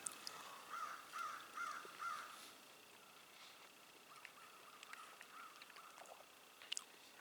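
Several crow caws from birds flying overhead, a quick run of calls early on and then sparser, fainter caws against quiet outdoor ambience.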